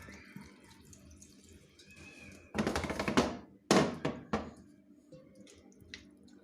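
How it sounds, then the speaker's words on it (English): Water poured from a two-litre supply into a pressure cooker while making beetroot wine, heard as several close, loud splashing bursts of a couple of seconds each, separated by brief pauses over a quiet room background. "We'll take some water from this and pour it into the cooker."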